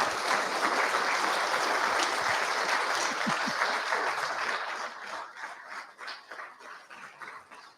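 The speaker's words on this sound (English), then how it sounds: "Give them a hand" Audience at an annual general meeting gives a warm round of applause, dense and steady at first, then thinning into scattered individual claps as it fades out.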